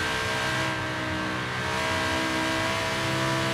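An Audi R8 in the Forza Horizon 3 racing game, running at nearly 300 km/h, gives a steady, loud, sustained engine roar with a high whine and no breaks.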